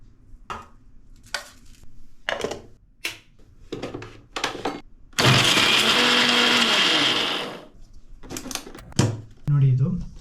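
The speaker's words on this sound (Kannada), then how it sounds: "ಸೊ ಈಗ ಇದನ್ನೆಲ್ಲ ಈ ಮಿಕ್ಸರ್ ಜಾರಲ್ಲಿ ಹಾಕ್ಕೊಳ್ಳೋಣ" Mixer grinder jar grinding fried pirandai for chutney, a loud steady whirring burst of about two and a half seconds in the middle, with clattering and tapping on either side and a person talking in between.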